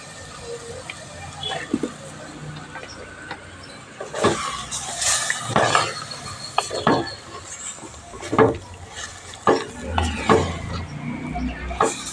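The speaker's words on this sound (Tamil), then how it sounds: "நல்லா கிளறி விட்டுருக்குங்க சிக்கன் நல்லா அதுலேயே வேகட்டும்" Scraping and clattering of a utensil stirring chicken in a metal pot, irregular knocks and scrapes at close range over a steady kitchen background.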